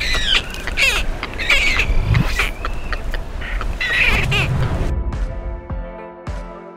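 Harsh, goose-like honks and squawks from brown boobies on a river island colony, several birds calling in overlapping bursts nearby before the sound cuts to a quieter tail.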